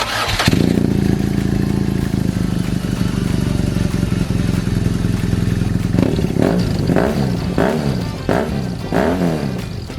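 A motorcycle engine fitted with a cheap aftermarket exhaust idles loudly and steadily, then revs in a series of sharp throttle blips with rising and falling pitch.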